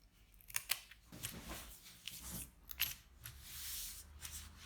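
Inexpensive paper scissors trim a zipper during sewing, giving several crisp close snips and blade clicks separated by quiet handling noises.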